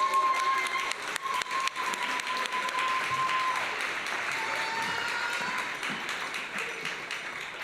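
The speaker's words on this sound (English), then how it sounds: "Let's give them a round of applause." Sustained applause from a crowd at the 2023 TTC Gala, dense clapping that fills the room and holds steady, with a faint tone and a few voices underneath.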